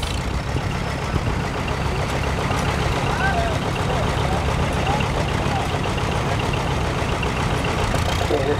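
A tractor engine idles and rumbles steadily at an engine and tractor show at the Verde Valley Fairgrounds in Arizona, a constant low drone with faint crowd noise behind it.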